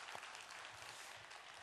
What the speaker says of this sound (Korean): 한번 박수로 격려하겠습니다